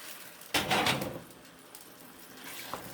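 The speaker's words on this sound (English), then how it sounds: "Then we're going to add a little bit of our vegetable broth." Vegetable broth pours into a pot of cream of mushroom soup in a short, splashing burst close by, then gives way to a quiet stretch with a few faint clinks.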